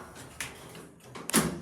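Shopping centre lift doors slide shut with soft rolling sounds ending in a firmer thud, heard close inside the lift car.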